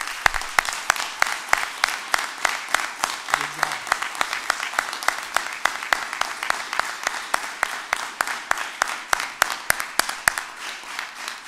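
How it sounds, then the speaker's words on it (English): Police Athletic League cadets receive applause at their graduation ceremony: sustained clapping from a nearby audience, with sharp individual claps standing out in a steady, uneven rhythm for the full length. "we are going to conclude by applauding you"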